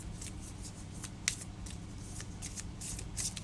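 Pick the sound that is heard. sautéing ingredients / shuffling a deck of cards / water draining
shuffling a deck of cards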